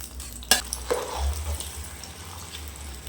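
Golden ghee-fried cashews go into a pot of ven pongal: a sharp clink of a utensil, then soft, thick stirring over a faint background sizzle.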